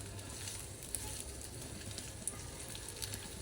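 Chicken balls frying in hot oil, a steady faint sizzle with occasional soft pops and crackles.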